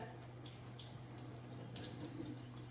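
Canned beans rinsed under a running kitchen tap, a steady faint rush of water hissing and splashing continuously without pause, no voices.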